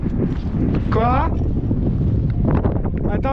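Gusty wind on a mountain ridge climb buffets the microphone with a low, constant rumble, while a voice speaks briefly in French over it.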